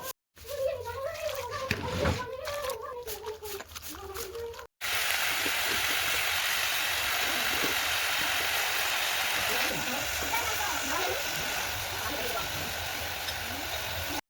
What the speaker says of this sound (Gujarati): ડુંગળી કપાઈ ગઈ છે તો ફટાફટ ધોઈ દઈએ